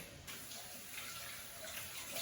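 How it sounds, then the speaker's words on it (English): Bok choy is rinsed under a running kitchen tap, a steady close splashing water stream that continues throughout with no speech. "you're gonna just run it under water, making sure that you check out all these little spots on the inside here"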